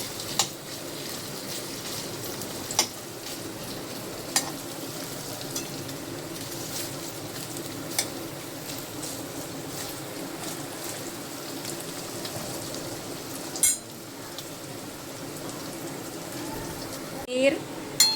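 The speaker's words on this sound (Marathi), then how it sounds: "पनीर टाकलं आहे आता तेलामध्ये. छान असं थोडंसं आपण आता फ्राय करून घेऊया." Paneer pieces frying in hot oil in a home kitchen pan, a steady soft sizzle running throughout with a few sharp pops and clatters, heard fairly close.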